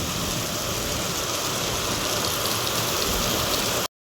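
Heavy rain pours down in a steady, dense hiss with no break, loud and close throughout until it cuts off abruptly near the end; no voices are heard.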